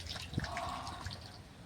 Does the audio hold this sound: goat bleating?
no